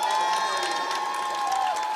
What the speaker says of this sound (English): everybody to give a good round of applause